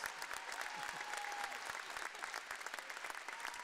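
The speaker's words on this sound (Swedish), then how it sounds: "en applåd" Steady applause from a crowd at a festival in Halmstad, continuous clapping throughout, moderately distant.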